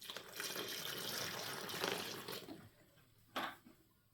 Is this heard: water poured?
yes